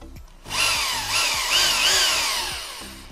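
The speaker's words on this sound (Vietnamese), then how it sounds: "Rồi, chuyển qua dân khoan thường." In regular drilling mode, a German-made 100V electric drill imported via Japan spins up to a loud, close whine that rises and dips with trigger pressure, smooth and free of hammer blows, with no voices.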